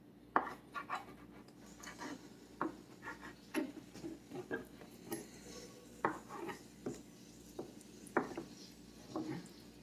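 A knife cuts center-cut pork chops from a roast, making about a dozen crisp chopping knocks against a cutting board in an uneven rhythm, quiet and close with nobody talking.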